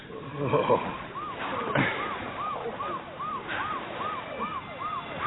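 Ambulance and police sirens arriving in an audio drama scene, a repeating wail sweeping up and down about every half second, moderately loud over a low rumble, with a short voice exchange near the start.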